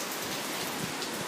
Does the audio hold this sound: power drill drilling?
no